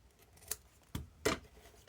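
Scissors trim excess tear-and-tape on a paper craft pop-up tower box, giving three quiet, separate snips spaced about half a second apart in a near-silent room.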